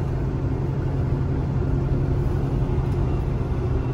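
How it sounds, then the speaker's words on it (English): A tractor-trailer engine rumbles low and continuous during a downshift on an uphill road test, heard from inside the cab as a steady, dense drone with no clear rise in revs. "Give it a good rev."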